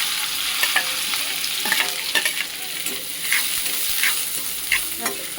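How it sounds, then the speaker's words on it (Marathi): Chopped onion sautés in about two spoons of hot oil in a pan for paneer bhurji. A steady sizzle is broken by frequent light scrapes and clicks from stirring, with no voices. "कांदा परतून घ्यायचा आहे चांगला"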